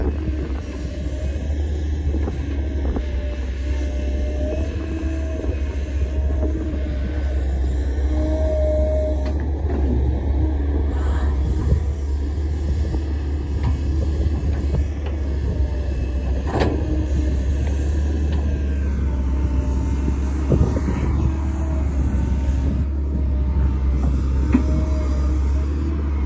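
An XCMG XE135B excavator digs a canal around a 30-rai plot, its diesel engine a steady, loud low drone throughout with faint scraping and clanks on top, no voices.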